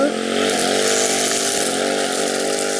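A small two-stroke brush cutter engine runs continuously at high revs, a loud buzzing drone that holds steady throughout.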